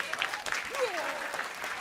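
Applause at a live Dutch show for the Vikings, steady clapping throughout with voices talking and calling over it.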